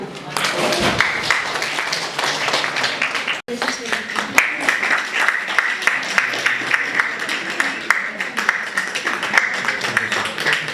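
Sustained applause from a school prize-giving audience fills the room, clapping steadily at a fair volume while someone speaks over it; a brief dropout interrupts partway.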